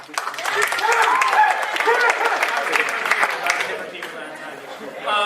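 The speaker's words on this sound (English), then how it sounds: "Another quick show of applause" Audience applause fills a comedy improv show, a broad steady wash of clapping with crowd chatter, sustained for several seconds before tapering and briefly rising again at the end.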